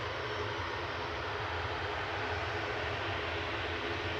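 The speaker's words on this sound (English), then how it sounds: "you get to see the props start push back on their own" A turboprop airliner at Manchester Airport reverses under its own propeller power, a steady, fairly loud droning hum of engines and props that holds constant throughout, with no talking.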